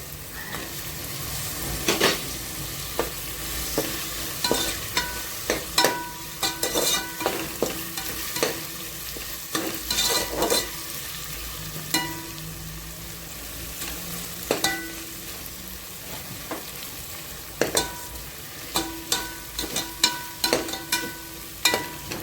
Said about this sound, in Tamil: வெங்காயம் தக்காளி நல்லா வதங்கிடுச்சு ஃப்ரெண்ட்ஸ்